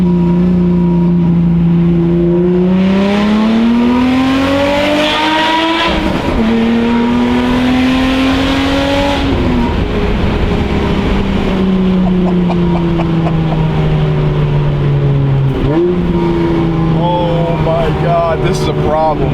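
An engine fitted with Kromer Kraft exhaust headers revs hard inside a tunnel, its loud, exotic-sounding note climbing and falling through several pulls that echo off the walls, with someone talking over parts of it.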